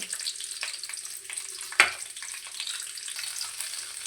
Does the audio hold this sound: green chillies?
yes